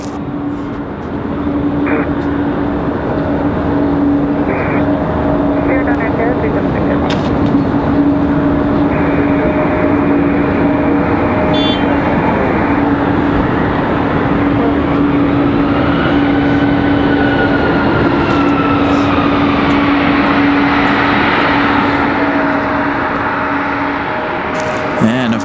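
A McDonnell Douglas MD-11 airliner passes at Raleigh Durham International Airport, a loud continuous jet roar with steady tones and shifting whine across the whole stretch.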